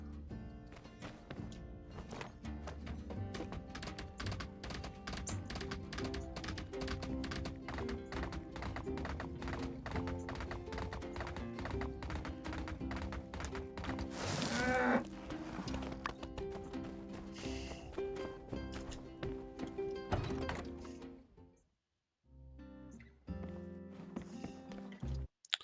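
Summoned horse in the game My Time at Sandrock, hooves clip-clopping in a steady walking rhythm under game music, with a brief burst midway and a short quiet gap near the end.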